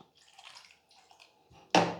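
Water is poured into a cooking pot of onions and tomatoes: soft faint kitchen clatter, then a sudden loud splashing pour that starts near the end and keeps going.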